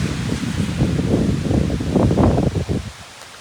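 Wind and rain gust around a phone recording outdoors on a very dark night, a dense steady roar with rustling bursts that drops away near the end; no one speaks.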